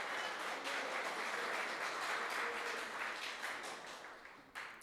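A church congregation applauds during a Portuguese-language sermon, a dense, steady wash of many hands clapping together that holds strong for several seconds and then tapers off, with a brief burst near the end.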